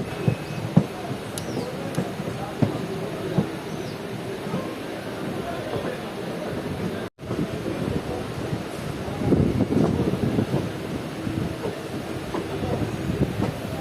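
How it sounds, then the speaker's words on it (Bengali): A train pulls out of Murshidabad Junction railway station on the Azimganj–Cossimbazar inauguration special, with steady close wheel rumble, light rhythmic clatter and wind buffeting throughout, swelling slightly louder near the end. "ফাইনালি বন্ধুগণ আমাদের ট্রেন ছেড়ে দিল মুর্শিদাবাদ জংশন রেলওয়ে স্টেশন"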